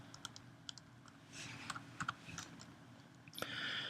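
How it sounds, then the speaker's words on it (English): Quick bursts of keystrokes on a computer keyboard, faint and close, with irregular clusters of clicks and short pauses in a quiet room. "Let's type S and look for sort."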